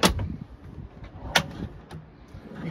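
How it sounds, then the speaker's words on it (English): Storage drawers on a 2023 Sailfish 290 center console boat slide and knock open and shut, giving a few brief sharp clunks and scrapes in a quiet setting. "Drawers."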